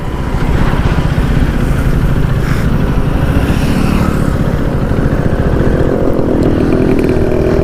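A 2025 Husqvarna Vitpilen 250 motorcycle is ridden and turned during a test ride. Its engine gives a steady, close, continuous drone with rough buzzing, and wind or road rumble sits underneath throughout.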